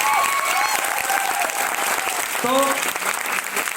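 Loud applause from a gathered audience fills the whole short stretch, steady clapping with voices briefly audible over it.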